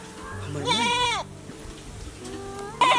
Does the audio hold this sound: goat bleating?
yes